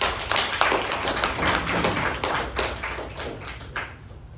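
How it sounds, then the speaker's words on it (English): Audience applause at a Toastmasters club meeting welcoming a speaker, steady dense clapping throughout, fairly even and moderately loud, no talk over it. "Please help me welcome Toastmaster Chetan with a huge round of applause"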